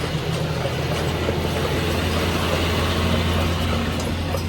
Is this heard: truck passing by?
yes